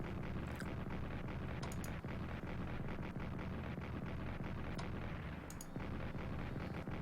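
Artillery barrage firing in the Strategic Command: World War I strategy game, a dense, steady rumble of repeated booms with a few sharper cracks standing out, loud and continuous throughout.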